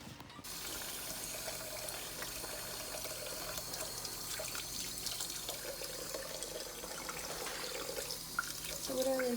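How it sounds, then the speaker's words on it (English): Cold tap water runs steadily as lettuce leaves are rinsed one at a time, a continuous close splashing and trickling at moderate level that swells slightly near the end. "So what I like doing is just rinsing off the leaves individually with cold water and drying them off."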